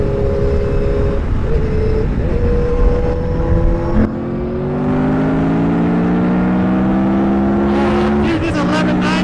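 KTM 1190 and Kawasaki ZX-10R motorcycles running side by side in fourth gear, engine notes climbing steadily to high revs under wind rush, loud and close, with a rider talking briefly near the end.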